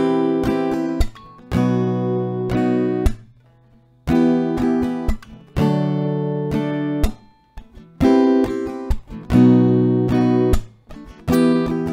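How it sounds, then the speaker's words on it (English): Slow acoustic guitar strumming through four chords, with sharp handclaps marking each bar and brief silent gaps between phrases, played close and loud with no voice. "So slowly, this strumming pattern with these 4 chords sounds like this."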